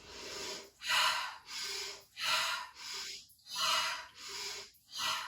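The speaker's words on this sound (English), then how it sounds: "a rapid breathing technique that involves quick, shallow breaths in a repeated pattern, like this" Rapid, shallow cyclic hyperventilation breaths, a person puffing quick rhythmic inhales and exhales about eight or nine times in steady succession, close and fairly loud with no talking.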